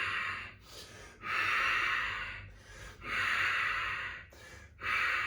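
Strong, rhythmic breaths during a vinyasa yoga flow, three loud forceful exhales of about a second each separated by short quiet inhales, close and clear.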